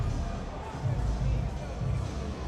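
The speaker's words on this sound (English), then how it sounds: "You can hear the boos." At a boxing event for James DeGale, a large arena crowd keeps up a dense, continuous roar of booing, loud and sustained, with crowd babble mixed through it.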